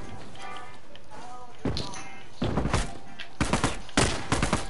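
Video game gunfire cracks out in sharp, loud bursts, with a single shot followed by several rapid clusters of reports over a low background hum.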